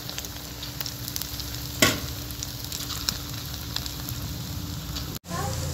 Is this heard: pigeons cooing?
no